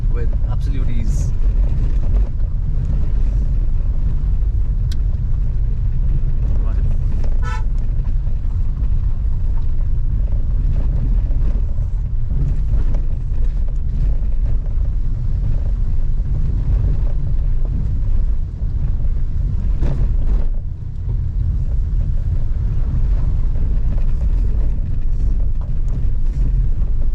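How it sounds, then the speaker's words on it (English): A Hyundai Creta 1.6 petrol automatic SUV climbs a steep mountain road, a steady low engine drone and rumble with wind buffeting, heard from on board and continuous throughout. "This humble Korean Hyundai is just climbing with absolute ease."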